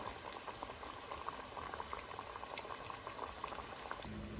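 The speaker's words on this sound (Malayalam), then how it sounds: "നമ്മുടെ വട ഇവിടെ തിളച്ച എണ്ണയിൽ റെഡി ആയിക്കൊണ്ടിരിക്കുന്നു" Continuous bubbling and fizzing of parippu vada (lentil fritters) frying in hot oil, steady and moderately loud, with no talking.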